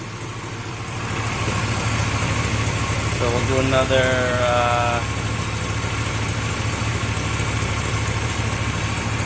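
A car engine idles steadily during an AC system recharge, a constant low hum under a man's brief speech, with a short whining hiss partway through.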